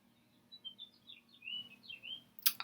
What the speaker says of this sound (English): I have my window open and I hear a lot of birds.